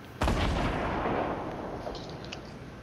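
A single loud revolver shot rings out in a shooter game, a sharp close blast followed by a long decaying echo that fades over a couple of seconds.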